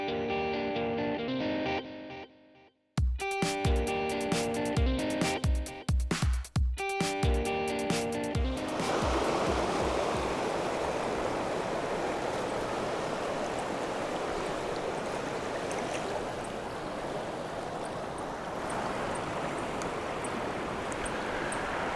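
At Robson River Campground near Mount Robson in Canada, the river flows in a steady, full rush of water that takes over after a few seconds of music and carries on unbroken with no talking.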